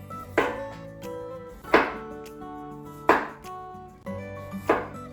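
Potatoes chopped with a knife on a cutting board into thick quarter-inch slices, skins on, four sharp evenly spaced chops close up, each ringing briefly before the next.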